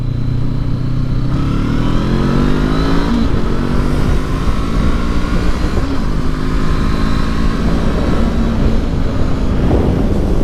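A 2019 Honda CB500X motorcycle engine running loud and close while riding on an Oregon road, revving up and shifting in pitch with no talk over it.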